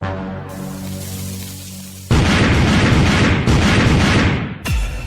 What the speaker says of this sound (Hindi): अभी भी कुछ पटाखे बचे हुए हैं, मैं फिर से ट्राई करता हूँ।